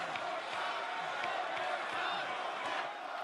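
Arena crowd at an AEW wrestling show in Ontario chanting a refrain, a dense, steady roar of many voices filling the hall throughout, loud and continuous with no break.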